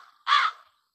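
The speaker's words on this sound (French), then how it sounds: "Oui, le corbeau croisse." A single loud, harsh caw from a crow, short and alone against silence.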